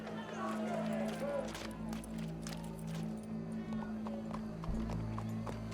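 Horse hooves clip-clop steadily in Red Dead Redemption 2, with a continuous low hum and faint voices in the background.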